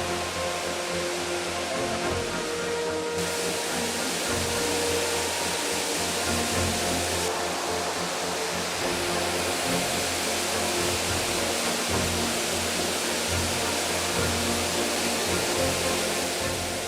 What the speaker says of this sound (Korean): 드디어 폭포가 모습을 드러냈네요